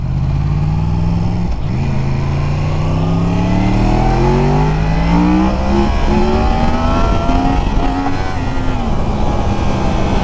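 A Yamaha MT-10 motorcycle of about 160 hp accelerates hard from the rider's position, its engine note climbing steadily and loudly through the revs over a constant rush of wind noise.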